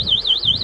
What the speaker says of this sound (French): mettre une alarme qui sonnera dès que l'on fait bouger la Beeper Max